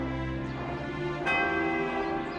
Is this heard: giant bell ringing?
yes